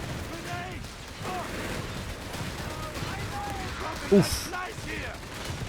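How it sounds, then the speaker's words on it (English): Two anti-tank guns firing in Company of Heroes 3 gameplay, heavy cannon blasts amid battlefield gunfire, with one sharp loud impact near the end and a brief exclamation from a player. "Here we go, the double AT guns strike hard."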